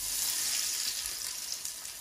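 Oil tempering sizzling in a pan for a Sylheti khatta of rohu fish roe and olives, a close, continuous hissing fry that fades slightly over two seconds with no voices.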